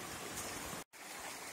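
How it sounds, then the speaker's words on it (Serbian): A forest stream flows in a continuous soft rush of water, steady throughout apart from a sudden momentary dropout midway, with no talking. "I dalje pratimo potok"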